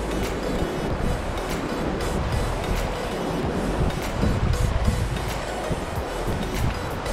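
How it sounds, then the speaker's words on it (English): Surf at Anjarle beach washes in as a steady, loud broadband roar with a low rumble, continuous for the whole stretch and with no voices. "we have reached Anjarle beach"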